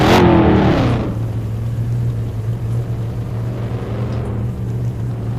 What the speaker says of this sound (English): So, we'll listen for cars that are still on.